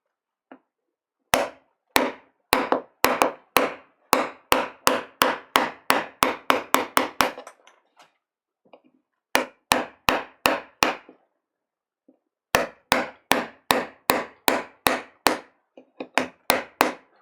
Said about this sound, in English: Got to get my hammer here.